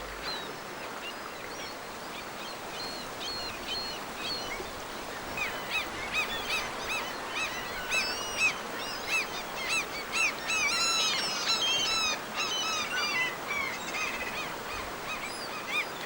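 Raucous gull calls ring out repeatedly over a steady background wash at a salmon river, the cries growing denser and louder toward the latter half.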